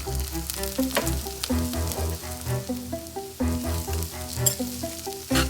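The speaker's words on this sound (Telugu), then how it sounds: "దాంట్లో కొంచెం కొంచెంగా రెండు ఆయిల్ వేసుకొని వేయించుకుందాం ఇట్లా" Flattened rice fries in a little oil in a pan, giving a steady, close sizzle with light crackles and the soft scrape of stirring throughout.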